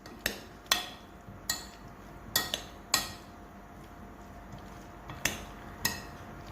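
Italian summer salad with farfalle pasta being mixed, giving a series of sharp utensil clinks and taps against a bowl at irregular intervals, fairly faint and close, with no talking.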